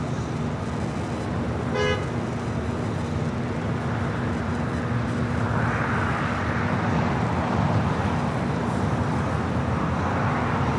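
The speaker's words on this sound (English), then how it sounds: "China Airlines Cargo 777 and just starting its roll down here on the south." A China Airlines Cargo Boeing 777 starts its takeoff roll, a broad steady jet roar heard from a distance that swells gradually, with one brief horn-like toot near the start.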